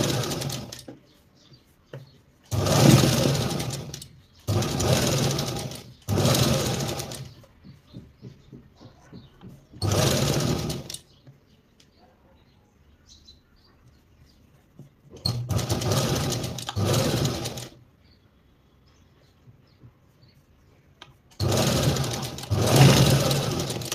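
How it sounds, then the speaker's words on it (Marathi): A sewing machine runs fine stitches along the folded front neckline of a princess blouse, buzzing in several bursts a few seconds long with quiet pauses between them and no voices over it. "आता इथे बारीक टाके शिलाई घ्यायची वरच्या बाजूने."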